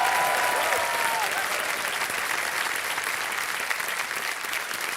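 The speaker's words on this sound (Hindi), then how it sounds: "तालियां बज जाए अंशुमन के लिए" Studio audience on a televised quiz show claps steadily throughout, a dense, loud wash of applause that tapers only slightly toward the end, with a brief cheer or whistle near the start.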